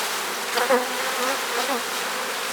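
Honeybees shaken off a hive frame during colony equalizing give a loud, dense, continuous close buzz that swells slightly in the middle, with no talk.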